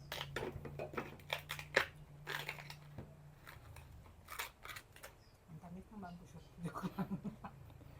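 Fresh bamboo shoot (labong) being peeled by hand in a kitchen, with crisp snapping, tearing and crunching bursts in an uneven rhythm, close by, while someone talks over much of it.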